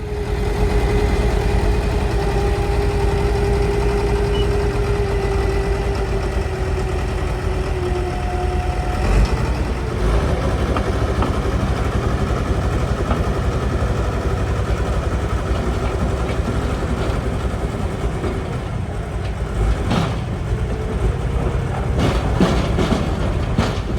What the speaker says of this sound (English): they're using the other bulldozer that the crew he's hired brought out here to get it back up here towards the shop